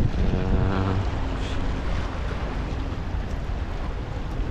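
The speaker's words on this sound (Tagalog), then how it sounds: "Ito ang dagat. Wow, dagat." Sea waves and wind at the Al-Khobar Corniche seaside in Saudi Arabia make a steady, loud wash of noise with microphone buffeting, continuous and close throughout.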